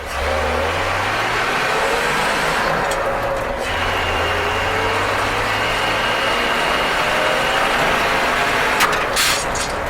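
A 1966 Chevrolet C20 pickup truck with a manual transmission on a drive: a steady, loud low engine drone with a shifting hum, plus brief rattles and clunks from the cab.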